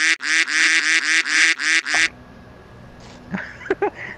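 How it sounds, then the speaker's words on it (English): A run of loud, close duck quacks dropped in as a sound effect, about eight rapid nasal calls in a steady rhythm over two seconds, then fading into quiet room noise with a few faint clicks and knocks. "Are you really gonna make me put a duck noise in front of you now?"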